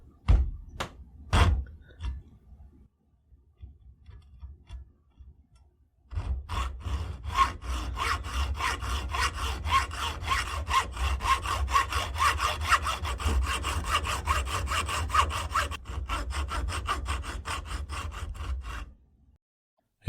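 Hand saw cutting through a metal workpiece clamped in a vise: after a few scattered knocks and a pause, a long run of quick, steady back-and-forth rasping strokes, close and fairly loud, then stopping.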